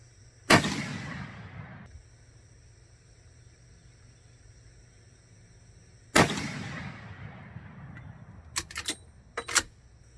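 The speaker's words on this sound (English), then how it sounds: "let me get loaded up, send some rounds down range" Marlin 1895 lever-action rifle fired downrange at a target, two loud, sharp, booming shots several seconds apart, each with a ringing echo tail, followed by metallic clicks of the action cycling.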